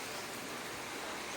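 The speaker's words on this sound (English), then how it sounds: "It's windy and it's raining" Wind and rain outdoors make a steady, soft broadband hiss that stays even throughout the short moment, with no voices.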